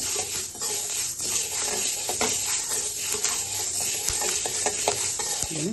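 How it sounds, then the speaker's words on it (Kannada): Spices, likely coriander seeds for sambar powder, dry-roasting in a pan on a low flame, with steady soft sizzling, irregular sharp crackles and pops, and the scrape of stirring. "ಚಟಪಟ ಅಂತ ಸೌಂಡ್ ಬರಬೇಕು"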